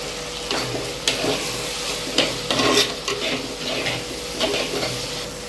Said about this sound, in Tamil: தக்காளி நல்லா வதங்கிடுச்சு. இப்போ நம்ம மஞ்சள் பொடி ஆட் பண்ணிக்கலாம்.